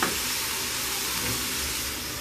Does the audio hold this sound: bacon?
yes